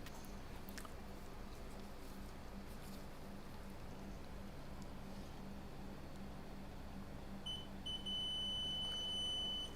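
Multimeter continuity beep on a MacBook A1708 inductor during board repair, a faint steady electronic tone that sounds near the end over quiet background hiss.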